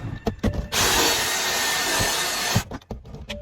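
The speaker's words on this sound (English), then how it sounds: "and we drill." A close power drill spins a scrub brush steadily for about two seconds with a scrubbing hiss, removing salt stains, framed by short knocks and clatter before and after.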